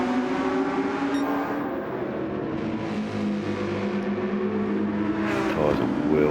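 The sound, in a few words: race car accelerating in a sim racing game, wet Nürburgring GP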